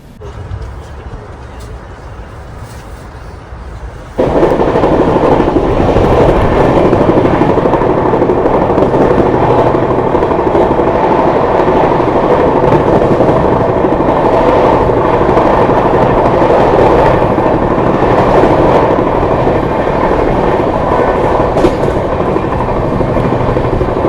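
A Poorvottar Sampark Kranti Express runs through light morning fog past Fatehpur: a quieter rumble for the first few seconds, then a loud, steady roar of wheels and carriage noise that holds to the end.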